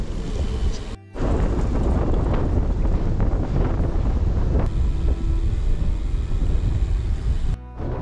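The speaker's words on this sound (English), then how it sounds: "still an insane headwind" Strong headwind roaring across the microphone while riding a bicycle on a slight downhill grade through Italy, a steady loud buffeting rush broken by two brief drops, with no talking.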